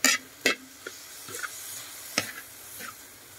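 Banana heart and egg stirred in a frying pan: a few scattered scrapes and taps of a utensil against the pan over a faint sizzle, close, quiet between strokes, with no voices.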